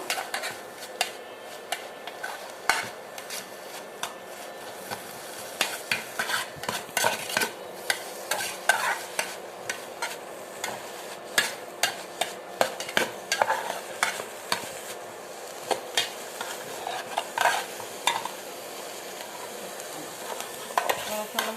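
Fried leafy greens are stirred in a pan over a soft continuous sizzle, with frequent sharp scrapes and clinks of the utensil against the metal at an irregular pace, heard close up.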